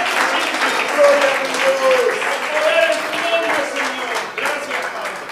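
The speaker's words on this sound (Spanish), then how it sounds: "Alguien le agradece con una alabanza y un aplauso en espíritu y en verdad." A church congregation applauds in praise, steady continuous clapping blended with voices and a sustained musical tone, fairly loud throughout.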